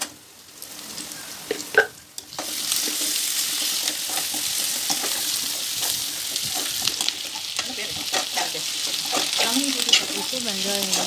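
Onions sautéing in ghee for upma: after a few quiet clicks, a loud steady sizzle starts and carries on, close by, with faint stirring scrapes mixed through it and no talking.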